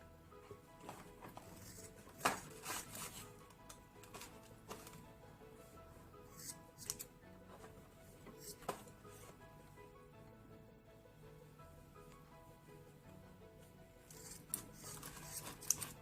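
Scissors snip crochet yarn while finishing a baby boy's earflap hat, a few quiet close cuts over a soft, steady background.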